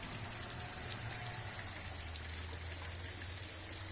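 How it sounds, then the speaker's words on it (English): Steady rain falls during a summer lightning and thunder storm, a constant close hiss of drops with a low rumble underneath, no voices and little change in level throughout. "Oh yeah, the rain's definitely."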